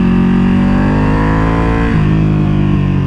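2021 Ducati Panigale V2 motorcycle with a full Akrapovic exhaust, a loud, deep engine note that climbs steadily in pitch, dips suddenly, then carries on, heard close and alone.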